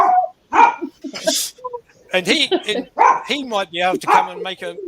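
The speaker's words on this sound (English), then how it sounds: "Oh, that's the dog" A dog barks several times in short sharp bursts close by, mixed in with people talking over it.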